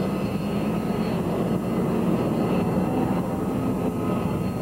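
Aircraft on its takeoff roll at the El Toro MCAS air show, a steady, loud broadband engine roar holding evenly throughout with no break, filling the scene from start to finish.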